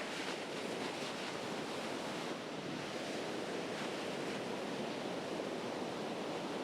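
Ocean surf at Crystal Cove beach washes in a steady, broad roar of breaking waves, constant and moderately distant, with no voices.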